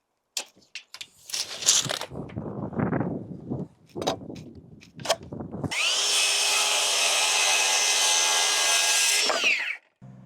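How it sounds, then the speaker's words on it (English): A few scraping and knocking sounds, then a loud, steady power drill whine runs for several seconds while drilling holes for anchor bolts, before cutting off abruptly. "If you're drilling anchor bolts, like I've got here"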